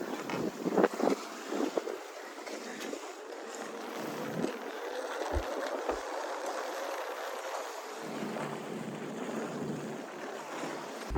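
A sailboat under mainsail with no engine running moves through open water. Gusting wind rumbles against the microphone over a constant hiss of water, with a few low thumps from the hull or rigging.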